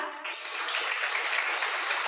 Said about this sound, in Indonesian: kita meriahkan acara talk show pada malam hari ini dengan tepuk tangan yang meriah